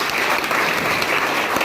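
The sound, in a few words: loud applause from school audience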